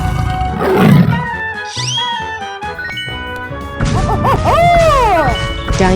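A tiger roars in a 3D animal slide video game, a loud growling roar over crashing, whooshing game effects and bright musical tones.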